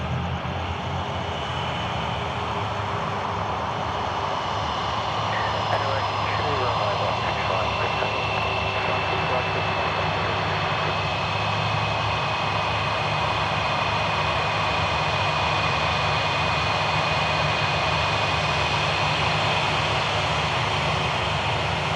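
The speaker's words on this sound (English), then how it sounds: "Airwork 2 now cleared for takeoff, runway 16 right as well." Airliner roaring down runway 16 Right at Sydney Airport at night, a loud continuous broadband engine rumble with a faint whining tone, steady throughout and close by.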